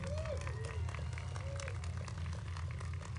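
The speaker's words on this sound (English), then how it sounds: "I'd like to hear a round of applause for Rabbi Menachem Shem Tov" An audience gives a round of applause for a rabbi at a menorah lighting ceremony on the National Mall, dense clapping and crowd noise sustained throughout, with faint whistles or cheers on top.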